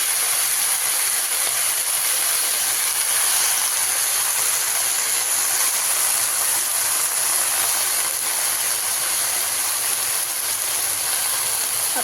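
Washed fenugreek (methi) leaves hit a hot pan of reddish-browned tempering for a Marathi methi bhaji, giving a loud, steady broadband sizzle that hisses without a break from start to finish, with no talking.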